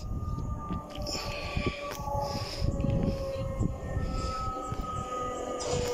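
A Class 700 eight-car train arrives at Abbey Wood station, a sustained electric whine with steady tonal hums and rumbling rail noise, plus intermittent clanks and squeals as it pulls into the platform.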